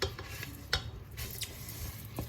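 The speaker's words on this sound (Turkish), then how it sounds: "Rengi dönene kadar kavuracağız arpa şeriyelerimizi." Barley vermicelli stirred and toasted in a pan, with soft scraping strokes of a spoon and a few sharp clinks against the pan over a faint sizzle, close by and quiet.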